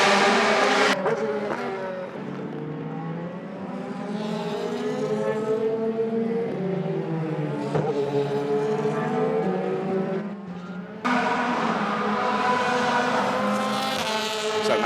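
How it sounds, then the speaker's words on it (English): An Audi DTM race car on wet-weather tyres at a rain-soaked Moscow circuit roars loudly, its engine pitch rising and falling through gear changes, with tyre hiss and a brief dip before the engine surges again. "See the blue colours on the wet weather tyres and the back end of the Matthias Ekström car kicking out."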